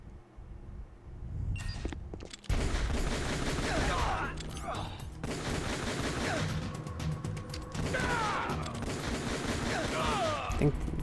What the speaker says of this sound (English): I think some of them are using shotguns.